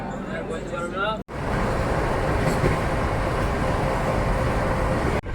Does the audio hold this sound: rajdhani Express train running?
yes